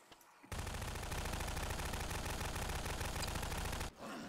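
SMG gunfire in Garry's Mod rattles in one loud, sustained rapid burst of about three and a half seconds, cutting off abruptly with no talk over it.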